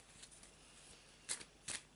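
Two quick riffle shuffles of a deck of tarot cards, crisp and close, in an otherwise quiet room.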